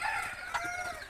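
A mother hen that has just hatched a brood of chicks from fifteen eggs gives a brief, close burst of soft clucking with no talk.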